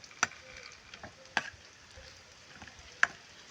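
Frying in cooking oil in a pan, with rice (sinangag) being fried, heard as a soft, steady sizzle in the background, punctuated by a few sharp ticks and clicks of stirring.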